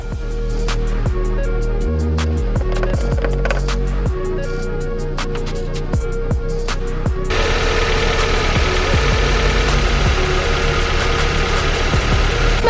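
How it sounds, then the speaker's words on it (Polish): A car engine idles steadily and close by after its radiator is refilled with distilled water and Prestone coolant, a low continuous rumble with rhythmic ticking; partway through it grows louder and rougher, with no voices. "silnik już pracuje"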